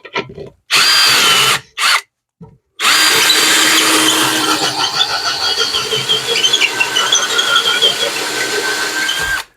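A power drill with a hole saw cuts through material for an RV solar install on a motorhome, starting with a few short bursts, then a long loud steady grinding whine with squealing overtones.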